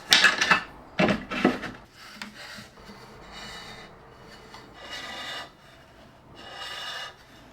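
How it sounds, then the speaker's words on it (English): Gear floss looped around the lead screw of a Bambu Lab A1 3D printer, rubbed back and forth in several close scraping strokes, louder at first then softer and spaced out. "Simply loop it around the lead screw and move it back and forth while carefully going up and down."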